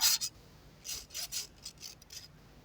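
Handheld fidget object being fidgeted with: quiet scratchy rasping strokes in short bursts, close to the microphone, with pauses between them and no voices.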